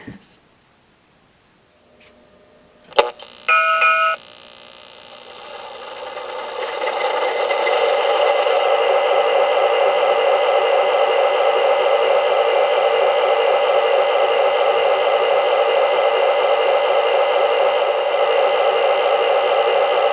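An MTH RailKing Conrail SD80MAC model diesel locomotive powers up: a click and brief electronic chirps, then a whirring engine sound that rises and settles into a loud, steady rumbling idle that continues to the end.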